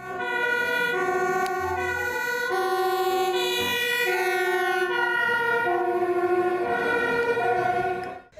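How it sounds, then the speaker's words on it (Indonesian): A toy fire truck's electronic siren plays a steady, loud run of warbling, musical wail tones throughout, close and continuous with no talking. "Di sini ada mobil pemadam kebakaran."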